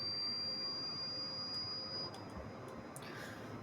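Boeing 777 jet engine spooling up in a flight simulator, a steady whine with a high sustained tone over broad roar, continuous and moderately loud, easing slightly partway through.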